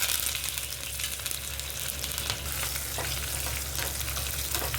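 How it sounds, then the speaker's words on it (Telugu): Tempering spices for menthikura pappu (cumin, garlic, dried red chillies, mustard seeds, curry leaves) sizzle loudly in hot oil, a dense crackling fry with occasional pops under a low steady hum; no voices. "పోపు వేసుకుందామండి."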